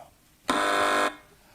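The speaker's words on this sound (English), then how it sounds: "Fingers on buzzers, please." A single quiz show buzzer on a British panel game blares once as a flat, steady electronic tone lasting just over half a second, loud against a quiet background.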